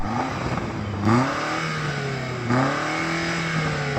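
A BMW X6 SUV engine revs up sharply twice, each rise in pitch followed by a slow falling drone, heard at moderate distance with steady background noise.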